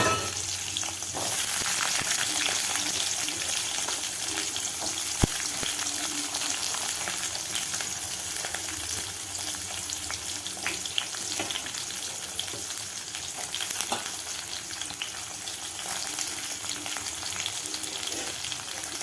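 Mustard seeds and urad dal frying in hot oil for a tamarind kuzhambu tempering, with fenugreek: a continuous close sizzle with scattered sharp pops and crackles and occasional stirring, no voices.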